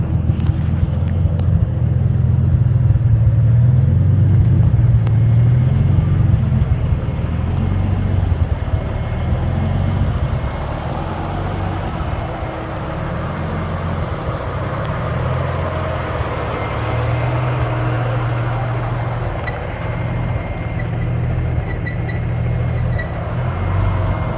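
A budget-build car with a modified exhaust idles steadily, its low, even engine rumble continuing close and fairly loud for the whole stretch with no talking.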